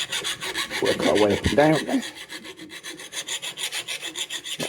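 A hand file rasps back and forth across a Ryobi lawnmower blade during sharpening, a close run of even strokes in a quick steady rhythm, with someone speaking over the first strokes.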